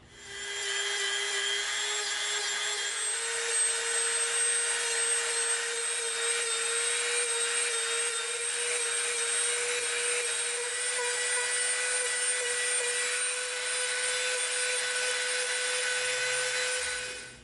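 A rotary tool fitted with a rough bit sands a bevel into EVA foam, producing a continuous close, high-pitched whine with a grinding rasp that holds steady for the whole stretch.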